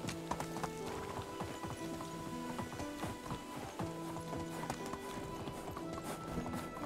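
Steady clip-clop hoofbeats of a donkey walking in the medieval village-building game Medieval Dynasty, rhythmic and continuous, moderately quiet and alone without talk.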